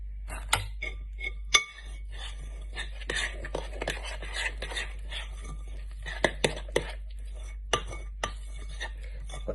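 A spoon scrapes and clinks around a bowl of pancake batter in a home kitchen, giving repeated irregular taps and scrapes against a steady low hum, with soft whispery talk now and then.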